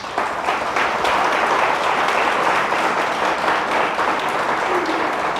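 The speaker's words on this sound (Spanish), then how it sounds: "Dale un fuerte aplauso al Señor." Sustained applause from a church congregation, loud and dense, steady hand claps filling the room throughout with no break.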